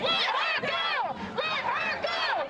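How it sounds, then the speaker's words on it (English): Masked protesters yell at an anti-M103 group during a street demonstration. Several voices shout in repeated ragged bursts at moderate distance, forming a rowdy crowd chant. "masked protesters yelling obscenities at the anti-M103 group"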